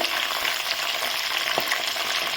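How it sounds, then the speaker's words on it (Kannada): Cumin seeds, garlic and curry leaves frying together in hot oil for a mint tomato chutney, giving a steady, close crackling sizzle with faint stirring and no talking. "ಇವೆಲ್ಲ ಒಂದೇ ಸಲ ಫ್ರೈ ಮಾಡ್ಕೊಳಕ್ಕೆ ಹಾಕೋಬೇಕು ನಾವು ಎಣ್ಣೆ ಒಳಗೆ ಜೀರಿಗೆ"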